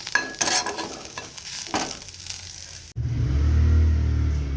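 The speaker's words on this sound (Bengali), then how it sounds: "ধনে গুঁড়ো জিরে গুঁড়ো হলুদ নুন এগুলো দিয়ে সামান্য কষিয়ে নিচ্ছি" Potatoes and okra with coriander powder, cumin powder, turmeric and salt are stirred and sautéed in a pan with soft sizzling and scraping, then the sound cuts abruptly to a steady low rumble.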